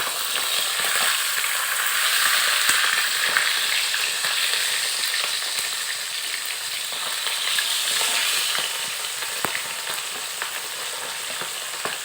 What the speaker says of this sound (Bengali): এই মাছগুলোকে একটু লাল লাল করে ভেজে নিতে হবে।